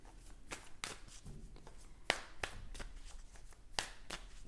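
Tarot cards are handled and laid down, giving a series of close, crisp snaps and slaps at an irregular rhythm over a quiet background.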